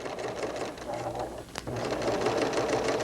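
Sewing machine stitching in the ditch along a sweater seam with a lengthened stitch, a steady close whirring run that pauses briefly near the middle and then resumes.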